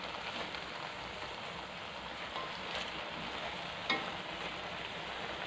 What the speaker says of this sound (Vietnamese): Cho vào là mình đảo đều đi thôi.